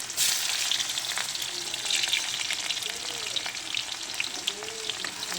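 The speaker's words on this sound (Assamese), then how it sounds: "গৰম হৈ আছে, ইয়াতে মই পিঁয়াজখিনি দি দিম।" Sliced onions frying in hot oil seasoned with mixed meat masala, coriander and cumin, a steady broadband sizzle with light crackles and occasional stirring, close and continuous with no talk.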